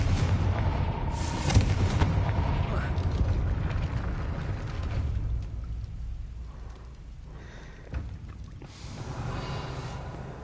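In Hogwarts Legacy, a Confringo fire spell blasts open a gate with a booming, crackling impact over a rumbling game ambience, with a second burst partway through.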